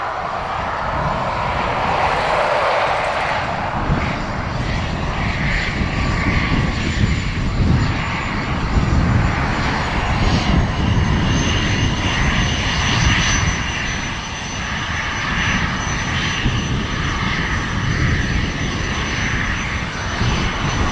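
Airliner on runway 10 right at Dublin Airport, a loud, steady roar of engines with a high whine layered above it, sustained without a break for about twenty seconds.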